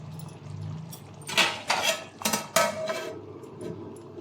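A metal plate is set back as a lid on a pot of Kadapa chitti muthyalu mutton biryani, giving a quick run of close, loud clanks and scrapes in the middle.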